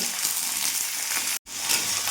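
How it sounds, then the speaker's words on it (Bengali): Okra sizzles steadily in hot oil in a pan, a dense, continuous frying hiss that holds evenly throughout, with one brief sharp cutout near the end. "এখন ভেন্ডিগুলো কিছুক্ষণ ভাজা ভাজা করে নেব"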